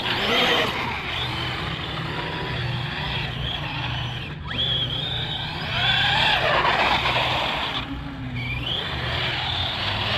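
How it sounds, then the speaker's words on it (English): An Arrma Big Rock RC monster truck power slides on loose ground, its electric motor whining up and down in pitch while tires scrub and skid, close and fairly loud, with no talking. "I'm not hitting the brakes on purpose, trying to just power slide it."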